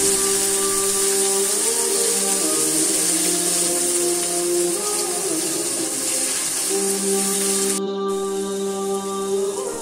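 Onion and garlic paste frying together in a pan, giving a steady, loud, continuous sizzle that hisses without pause from start to finish.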